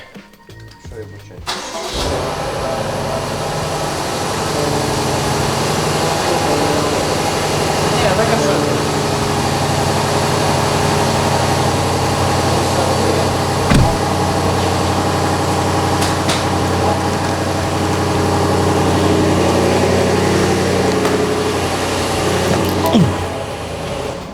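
A BMW M850i imported from America starts up and then settles into a steady, loud idle close by. The engine sound holds throughout, with people talking over it now and then.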